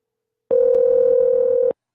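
A single steady telephone dial tone sounds for about a second and a quarter, loud and clean with sharp start and stop, signalling an incoming call on a radio show; no one speaks over it.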